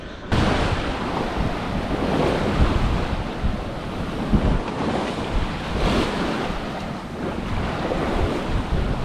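Steady wind roars and waves rush continuously around a sailboat crossing the Atlantic, loud and close, with gusts buffeting the microphone and no talking.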